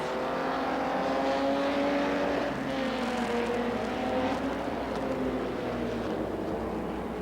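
Stock cars racing around a race track, with a steady, loud roar of engines whose pitch sweeps as the cars pass, continuous throughout and no voices.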